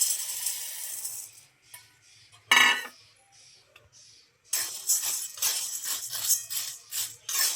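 Dry sago pearls are stirred and scraped around a hot kadai, giving bursts of gritty rattling and clinking in irregular clusters, close and fairly loud, with a quiet gap in the middle.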